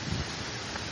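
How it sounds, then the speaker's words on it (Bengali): Strong wind blows outdoors during rain in a coastal-like flooded area, a steady loud broadband rush with buffeting gusts near the start, no talk. "এখানে অনেক বাতাস"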